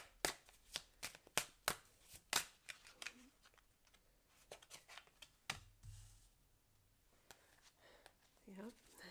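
Tarot cards shuffled by hand in a series of sharp, crisp riffles and snaps, quick and close at first, then sparser, with a soft voice murmuring near the end.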